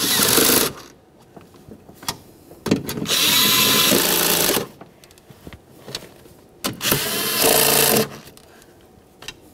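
Power tool bursts tightening the window regulator motor mounting hardware inside the door of a 1994-1999 Honda Accord, three loud sustained whirring runs separated by short pauses and clicks.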